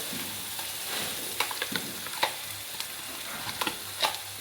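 Tomatoes and a paste of coconut and roasted onion are stir-fried for baingan sabji, a steady close sizzle with irregular bursts of spoon scrapes and taps against the pan and no talking.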